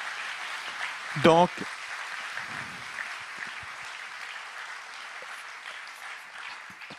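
Audience applause at a general assembly, a soft, even clapping wash through the whole stretch, with a brief spoken word and a short voice burst near the start.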